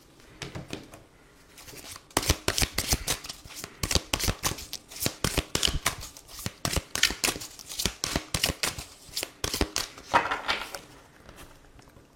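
Quick, crisp riffling bursts of tarot cards being shuffled by hand, close and fairly clear, repeating in a fast irregular rhythm for most of the stretch with no talk over it.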